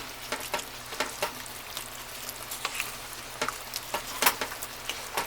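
Jambalaya with meat simmering on low heat, giving a steady soft sizzle and bubbling with scattered small pops and crackles throughout, close and fairly quiet, with no talking.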